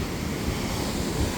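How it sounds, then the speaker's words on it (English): Stormy sea surf breaking around a seaside pier at Bognor, with strong wind buffeting the microphone in a steady, loud roar of waves and gusts, no talking. "look at the waves. Stormy today. So it was quite windy there."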